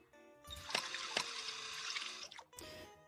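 Water pours into a bowl of wheat-flour dough in the video game Bakery Simulator, a steady splashing stream of about two seconds with a few sharper clunks, ending in a short final splash.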